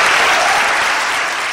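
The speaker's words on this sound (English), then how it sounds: "Let's give all six of these young people a round of applause on that accomplishment." A round of applause for six high school student athletes signing college commitments, dense, loud and continuous clapping from a crowd, slowly tapering toward the end.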